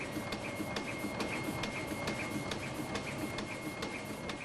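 CE150 hot stamping machine fitted with a laser die cutting unit runs steadily, a loud continuous mechanical drone with a sustained tone and sharp regular clicks repeating roughly every half second, with no talk.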